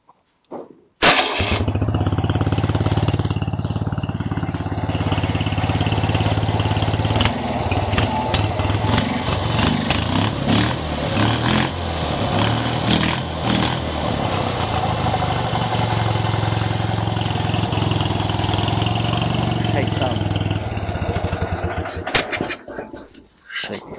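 A new, long-stored UD-25 engine with a K-16M carburetor idles steadily and loudly at close range, a continuous even running sound from start to a cutoff near the end.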